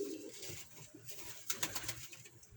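Pigeons cooing nearby in soft, repeated throaty calls, with faint background rustle and no talking.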